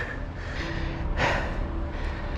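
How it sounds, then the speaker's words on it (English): Heavy, nervous breathing from a mountain biker steeling himself before a drop, one sharp gasp in the middle amid close, steady outdoor noise. "I'm breathing so heavy because I'm scared"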